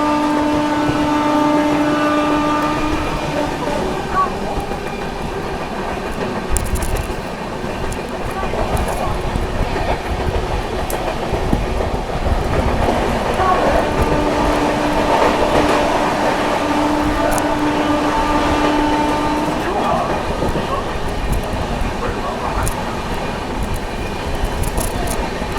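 Goa Sampark Kranti Express 12450 running at speed through Faridabad station without stopping, a continuous loud rumble of railcars with steady clickety-clack of wheels on track and occasional squeals throughout.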